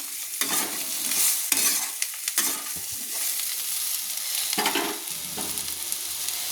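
Chilli, cumin and ground coriander are stirred in a frying pan for a bitter gourd and potato dish: close, rhythmic scraping strokes of a spoon over a bright, continuous sizzle of hot oil.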